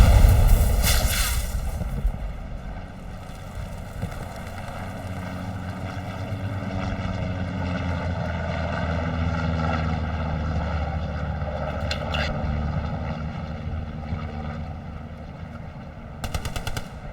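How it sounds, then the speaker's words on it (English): An enemy reconnaissance plane from a multiplayer war video game drones overhead, its propeller engine a steady loud hum that builds and fades, with a few sharp gunfire-like bursts near the start and later. "That was an enemy recon plane, guys."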